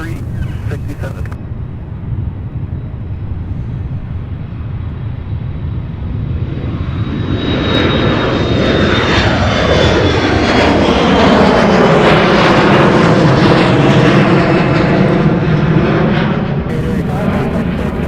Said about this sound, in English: this 767 heading to Oakland, California, UPS